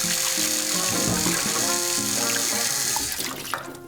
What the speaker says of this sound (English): Hands are easily cleaned without soap or anything, just with water.